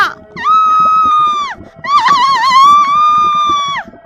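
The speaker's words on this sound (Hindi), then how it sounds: "उसके बाद सकीना चिल्लाते हुए वहाँ से गायब हो जाती है" Witch screaming in a Hindi horror story: two long, high, wailing screams with a wavering pitch, separated by a brief gap, over a faint low rumble.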